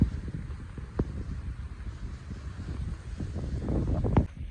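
Strong wind buffets the microphone outdoors on a mango farm, a continuous low roaring rush with gusts swelling toward the end, heard alone without talk.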